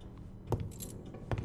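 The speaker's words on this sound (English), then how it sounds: "I'm guessing, though, that jingle jangle is the keys." Keys jingle and jangle in the video game Resident Evil 2, two short metallic clinks about a second apart over a faint background hum.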